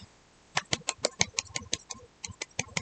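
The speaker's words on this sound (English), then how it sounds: "That's me mini clapping." Small, quiet hand claps, about a dozen soft, quick pats in an uneven rhythm, close and light, with no talking.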